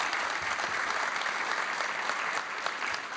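A conference audience at a regional agricultural congress breaks into steady, sustained applause, a dense wash of clapping filling the hall.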